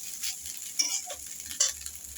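Rice frying in a hot pan, a soft, steady hiss with a few light clicks and scrapes of stirring, close and fairly quiet, with no talking.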